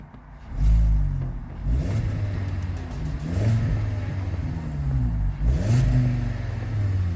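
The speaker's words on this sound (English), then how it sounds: "We're gonna listen to the engine rev." A Volkswagen Golf SportWagen TDI engine revs up several times in a row, each rise in pitch climbing and falling back, steady and close with no talking.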